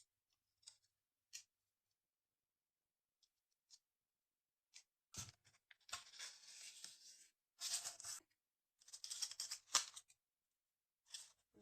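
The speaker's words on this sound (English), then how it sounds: "I'm cutting out two pieces of 5 centimeters each" Scissors cutting two small paper pieces for an accordion journal, with faint scattered snips at first, then closer bursts of slicing and rustling in irregular clusters, with no talk.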